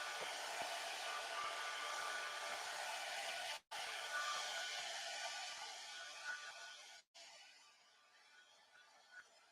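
A hair dryer blows steadily at close range over freshly gel-printed paper to dry the paint colors, a continuous broadband whoosh with two brief cutoffs as it is switched off and on.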